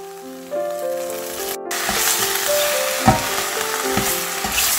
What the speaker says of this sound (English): Then stir fry for about 1 minute